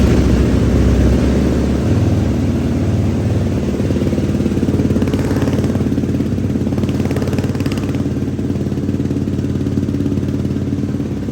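A 2024 Yamaha YFZ450R ATV engine, freshly primed, runs loud and close in a steady rough rumble that holds throughout with little change in pitch.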